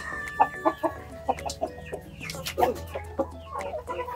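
Hens cluck in short, uneven bursts close by, a few birds calling back and forth in a quiet farmyard, with soft chatter in between.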